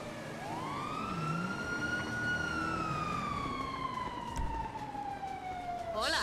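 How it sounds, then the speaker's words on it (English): A police siren in the video game GTA 5 wails in one long slow sweep that rises and then falls away, heard at moderate distance over a low background rumble, with a faint thump near the end. "I hear sirens."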